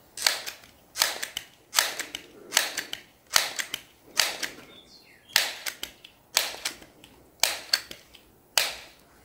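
A Crosman 1377 Carbine air pistol pumped and fired: a steady run of about eleven sharp, loud clicks and snaps in even rhythm, close up, with a brief mechanical squeak partway through.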